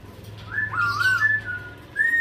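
A black-capped lory gives a few clear, whistled calls, rising and sliding notes in short phrases, close by against a faint low hum.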